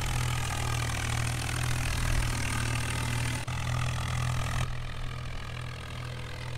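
A Vishal 435 combine harvester in Farming Simulator 19 drones with a steady, low engine hum through its silencer, constant and moderately loud, then dropping slightly in level toward the end.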